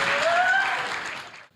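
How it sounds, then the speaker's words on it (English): A congregation claps at a Christian healing testimony service, a dense continuous wash of applause lasting under two seconds before cutting off, with a faint whistle-like tone over it. "Clap your hands for Jesus."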